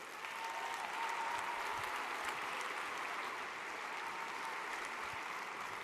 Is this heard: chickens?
no